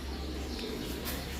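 A pigeon coos softly in a steady low murmur against constant background noise, with no talk.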